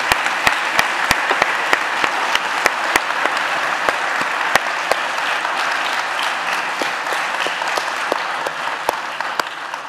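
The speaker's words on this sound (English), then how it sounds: "you can give him some applause" An audience at a Democratic Design Day talk in Lugano gives a warm, even round of applause, loud and continuous for about ten seconds, with a few sharper individual claps standing out from the crowd.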